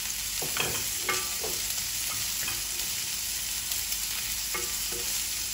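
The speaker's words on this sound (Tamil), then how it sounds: "உள்ளி கொஞ்சம் வதங்கின அப்புறம் இதுக்குள்ள வெங்காயத்தை போடுறேன்." Chopped onion fries in hot oil with garlic, giving a dense, steady sizzle close by, broken by occasional spatula scrapes and stirs against the pan.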